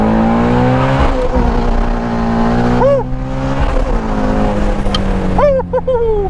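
A Shelby Ford GT350 pulls hard in first gear at wide open throttle, its engine note rising steadily in pitch as the revs climb, loud and close from inside the car, with brief dips where the throttle eases.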